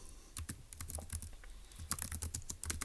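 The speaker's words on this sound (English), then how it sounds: "let's go ahead and type in our notes that the solution" Notes are typed on a computer keyboard in quick, close clicking bursts, with a brief pause midway before the rapid keystrokes resume.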